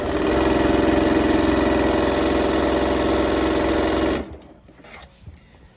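A sewing machine stitches binding onto a quilt, a steady close whirring hum that runs for about four seconds and then stops, leaving quiet handling noise.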